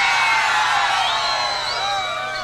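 Large crowd of men, women and children at a Salvadoran tropical music variety show shouting, whooping and cheering loudly all at once, a dense continuous roar with high yells rising above it.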